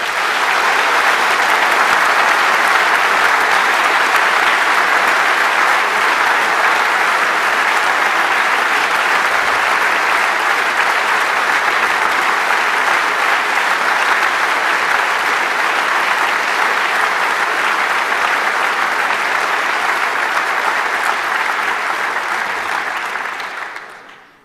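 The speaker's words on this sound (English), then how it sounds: "And so very, very big applause for our angels." Huge, sustained audience applause at the closing event of a large hacker conference, the 27th Chaos Communication Congress, a dense, loud, unbroken wash of clapping lasting over twenty seconds before fading.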